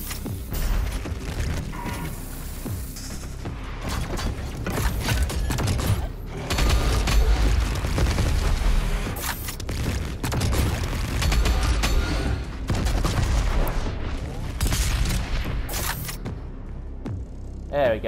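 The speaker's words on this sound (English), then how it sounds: "I think it's time to use the rocket launcher on this distance." Rocket launcher fire and explosions in DOOM Eternal's The Ancient Gods Part 2, booming blasts and mechanical clatter over dense game music and combat noise, loud and continuous with no talk.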